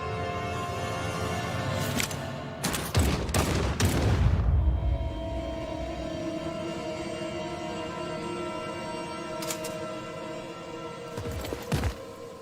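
Gunfire from the game Chicken Police rings out in loud sharp clusters, with several quick shots and a heavy booming blast, then a lull before further isolated bangs.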